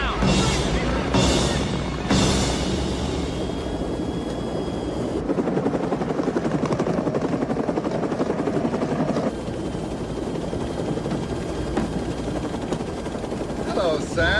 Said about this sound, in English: I can fly a helicopter.